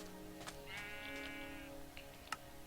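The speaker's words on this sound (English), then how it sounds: "We got some sheep." A single sheep in Minecraft gives a drawn-out, wavering bleat, faint and alone over quiet game ambience with a few soft clicks.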